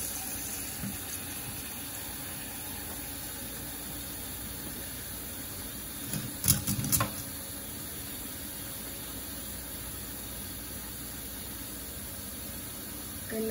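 Steady broadband rush of cold tap water running over boiled eggs, with a brief clatter of handling near the middle, continuous and fairly quiet throughout.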